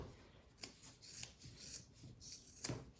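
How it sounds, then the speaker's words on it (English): Scissors trim excess fabric while a lined drawstring backpack is sewn, giving soft, close rubbing and snipping sounds with a few sharper cuts, including a distinct snip near the end. "I have these marked where I want to cut off the excess."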